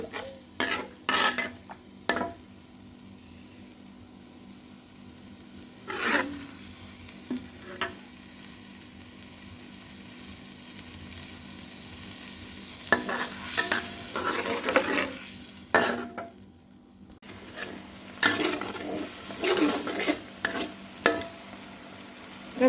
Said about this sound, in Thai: ใส่น้ำมันนะนิดหน่อย แล้วก็เอาเครื่องแกงที่ปั่น ใส่ในกระทะผัดจ้ะ ผัดให้เครื่องแกงหอมก่อนนะ